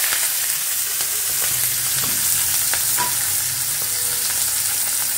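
Onions sizzle in hot refined oil in a pan, a dense continuous frying hiss with occasional light stirring scrapes, close and fairly loud, with no voices.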